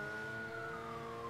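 A faint, distant video game police siren wails with a slowly falling pitch over a low rumbling engine, steady and quiet throughout.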